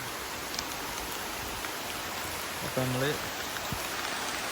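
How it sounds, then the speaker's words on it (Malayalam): Steady rain falls during a fishing outing, a dense, even hiss that fills the whole clip, with a voice speaking briefly near the middle. "മഴ വരുന്നുണ്ട്."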